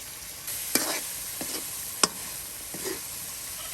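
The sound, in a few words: fish frying with spices in a pan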